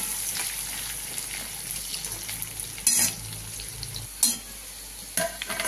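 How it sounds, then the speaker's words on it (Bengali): Potatoes fry steadily in a pan with a continuous close sizzle, broken by a few louder stirring scrapes and clatters, with no talking. "হয়ে গেছে আমার আলু ভাজা বন্ধুরা"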